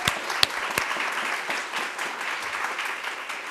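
An audience at a chaplaincy resilience keynote applauds the program organisers, a sustained, even patter of many hands clapping at moderate loudness with a few sharper claps near the start and no talk over it.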